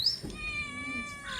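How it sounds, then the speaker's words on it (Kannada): A cat gives one drawn-out, wavering meow, close and clear, with a little faint background noise and no talking. "ನಿಮ್ದೇನೆ ಬೆಕ್ಕು?"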